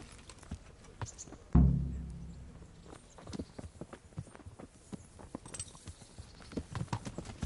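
Steady clip-clop of horse hooves on a hard surface in the video game Kingdom Come: Deliverance, a regular walking rhythm of sharp knocks, with a single heavy thump near the start.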